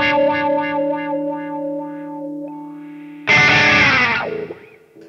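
Electric guitar run through a Dunlop Cry Baby Junior wah pedal, Special Edition, into a Katana amp: sustained chords whose tone sweeps and wobbles, then a second loud strummed chord swept hard by the pedal that decays. No one talks.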